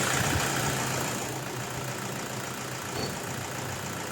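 A Toyota Hilux engine with 214,000 km on it runs at a steady idle close by after its timing belt and tensioner bearing were replaced, a smooth continuous rumble that eases slightly after the first second.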